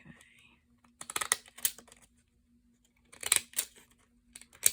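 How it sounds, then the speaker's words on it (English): Decorative craft scissors snip paper for a junk journal page in a few close, crisp bursts of cutting separated by quiet pauses. "These little fancy cutting scissors are fun to have"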